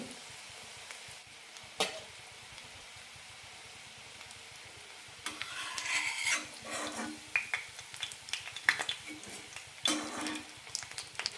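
Egg vada sizzles and crackles in hot oil, frying on low then medium flame, a soft steady hiss with scattered pops that grows busier partway through.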